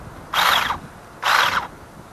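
Two short bursts of a high, whirring motor from a cordless mini chainsaw, each lasting under half a second with a pause between.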